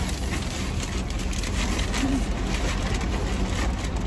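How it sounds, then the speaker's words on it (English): Rain falls outdoors as a steady, soft, even hiss of drops with no clear breaks, fairly faint and continuous throughout. "Rain is falling, so see? Rain."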